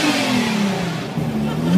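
A sports car at the Gumball 3000 rally in Copenhagen revs its engine close by, a brief throaty roar whose pitch falls and then rises again, with a faint crowd murmur underneath.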